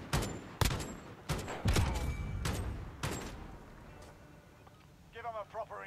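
Gunfire from a Call of Duty 2v2 gunfight match, with several sharp loud shots in quick bursts over the first few seconds, then quieter game ambience and a short chirpy effect near the end.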